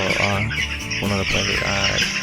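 Broiler chickens, about 22 days old, in a poultry shed during the monsoon season cluck loudly and continuously. Several close, overlapping calls form a dense, busy flock chorus.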